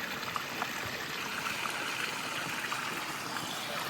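Steady flowing water from a stream, a continuous rushing trickle with no voices, even and close throughout.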